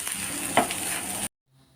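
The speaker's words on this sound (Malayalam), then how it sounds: "ഇനി എല്ലാം കൂടിയിട്ട് നന്നായിട്ട് മിക്സ് ചെയ്ത് കൊടുക്കാം." Vegetable thoran is stirred in a frying pan, giving a steady close sizzle with one brief scrape of the spoon before the sound cuts off into near silence.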